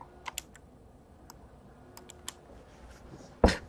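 A plastic case holding a baseball card is cracked open with one sharp, loud snap near the end, preceded by a few faint light clicks over a quiet background.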